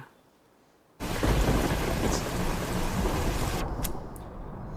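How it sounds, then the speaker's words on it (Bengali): Heavy rain with rolling thunder bursts in suddenly after a second of quiet, a dense steady roar of downpour with a few sharper crackles near the end; no voices. "বৃষ্টি"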